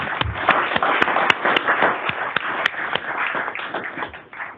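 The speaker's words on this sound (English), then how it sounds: "So let's give that hands of applause." Applause at a state transportation board meeting, a modest group clapping in a room, individual claps distinct and fairly close, steady for a few seconds then thinning out.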